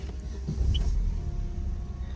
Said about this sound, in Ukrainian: зараз ми заводимо автомобільчик